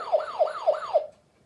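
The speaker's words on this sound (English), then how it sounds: "And that's the sound of the fire engine." A toy fire engine's electronic siren wails in four quick rising-and-falling whoops, clear and close, then cuts off.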